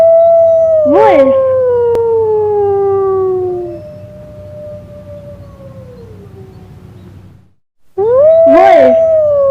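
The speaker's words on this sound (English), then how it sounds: "Wolf." A wolf howls in one long, loud, steadily falling tone that fades out, then after a brief silence a second howl starts up close and clear.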